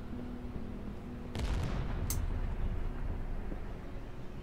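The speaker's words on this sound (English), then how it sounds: "That was a big ass explosion or something." A single explosion in a video game: one sudden, fairly distant boom with a short rumbling tail over quiet background noise.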